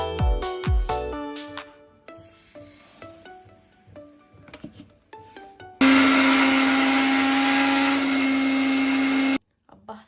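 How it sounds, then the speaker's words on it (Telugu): A kitchen mixer grinder whirs loudly for a few seconds, powdering roasted cumin and coriander seeds, after earlier scattered clatter and tapping of seeds and jar, then cuts off abruptly. "జీలకర్ర ధనియాలు ఇవన్నీ మిక్సీ పట్టేసుకుందాం"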